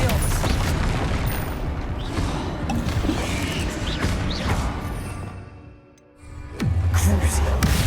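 Bombarda explosion spells cast in Hogwarts Legacy burst in dense, rumbling booms amid constant crackling combat noise, then fade into a brief lull before a loud low blast returns.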